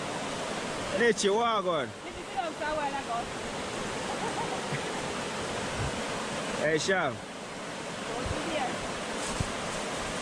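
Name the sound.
flowing river at riverside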